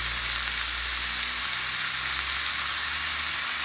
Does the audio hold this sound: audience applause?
no